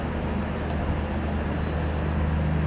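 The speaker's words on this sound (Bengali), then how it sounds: "এই হচ্ছে স্পেশাল ডেমু ট্রেন ডিজেলে চলে তাই আওয়াজ তো হবেই" A diesel DEMU passenger train stands at a platform in Jharkhand, its engine giving a steady, loud, rumbling drone with a constant hum that holds unchanged throughout.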